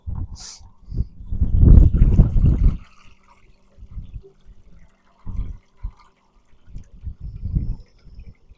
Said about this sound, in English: Water's flowing too strongly out the sides.